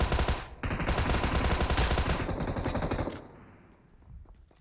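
Sustained automatic gunfire in PUBG Mobile, a dense rapid burst running about three seconds before cutting off, leaving quieter scattered game sounds.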